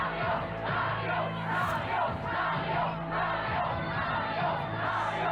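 Crowd chanting Mario in unison in an old Nintendo commercial from Quebec, a dense, steady mass of voices with rhythmic rises, close and loud throughout.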